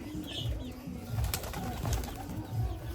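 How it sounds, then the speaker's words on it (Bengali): Pigeons coo in low, repeated soft phrases nearby, with a faint rustle and some background noise. "এই কবুতরটা একটু ধরিস তো রতন ভাই"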